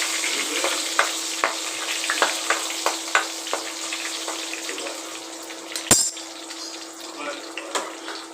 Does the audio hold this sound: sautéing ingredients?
yes